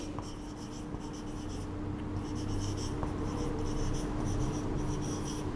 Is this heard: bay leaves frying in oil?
no